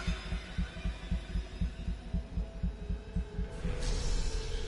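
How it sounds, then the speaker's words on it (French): Rhythmic heartbeat thuds in the horror video game Until Dawn pulse steadily and loud in the foreground, with a rising wash of eerie ambience joining toward the end. "Oh, j'entends les battements de cœur et tout."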